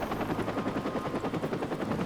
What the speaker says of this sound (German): Verfolgen Sie den Helikopter.